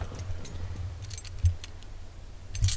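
Car keys jangle close up at the ignition of an old Ford Ranger, with light metallic clinks and two dull knocks as the key is tried.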